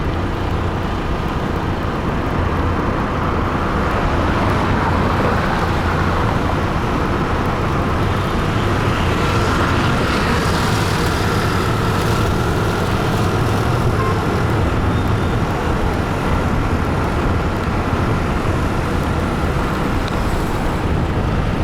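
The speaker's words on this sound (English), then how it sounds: "there's just too much traffic in Delhi to really enjoy driving around" Road traffic in Delhi heard from inside a moving car, a steady loud roar of engines and tyres with continuous rumble and no pauses throughout.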